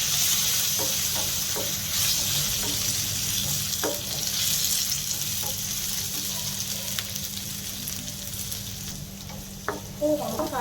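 Curry leaves frying in hot oil with garlic and cumin seeds give a loud, steady crackling sizzle throughout, broken by a few sharp pops and light stirring clicks near the end.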